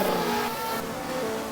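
Car engine revving hard in the Car Driving Indonesia video game, a steady loud mechanical drone with a slight shift partway through, no talking over it.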